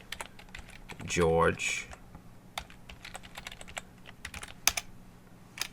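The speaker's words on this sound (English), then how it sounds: "oh geez, I can't type" Rapid computer keyboard typing in scattered bursts of clicks, close and fairly crisp, with a brief spoken voice partway through.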